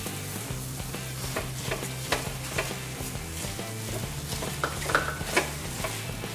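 Grated carrots cooked with cream and sugar frying in a pan, a continuous sizzle broken by frequent scraping and clinking strokes of a spoon stirring against the metal, close and fairly loud with no talking.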